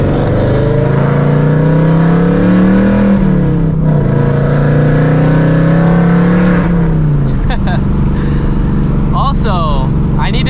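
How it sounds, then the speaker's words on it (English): A loud Ford Mustang V8 with a failing exhaust and no resonators, running with a check engine light on, revving hard in a steady, droning roar. The rumble rises and falls for several seconds, then drops back to a rough idle. "This car is very, very, very loud, as you can hear."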